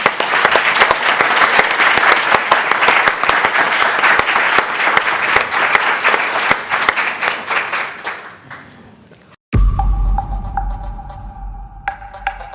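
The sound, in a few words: convention audience applause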